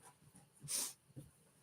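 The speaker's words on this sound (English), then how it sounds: "That's my dog Tier." A pet dog gives a short snort and a soft whimper, one brief burst near the middle and a fainter one after, close by in a quiet room.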